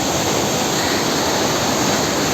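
Vattayi waterfall near Thrissur, a hidden forest cascade, pours in a steady, dense roar of falling water that fills the scene evenly from start to finish, with no voices over it.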